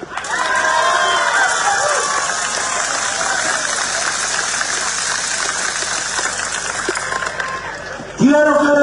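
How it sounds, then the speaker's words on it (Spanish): A large crowd at an outdoor political campaign rally in San Blas, Mexico roars with sustained cheering and applause, a loud continuous din that shifts near the end as a nearby sound cuts in. "Se van a aplaudir a Chávez."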